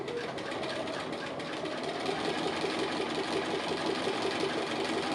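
A sewing machine stitching an appliqué edge on a house-themed quilt block gives a steady, close mechanical whir with a fast, even rhythmic chatter running throughout.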